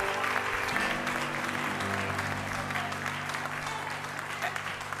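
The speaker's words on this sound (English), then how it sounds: "give God a hand clap of praise." Church congregation clapping hands in praise during a worship service, a steady wash of applause held at even strength over sustained organ or keyboard chords and low tones.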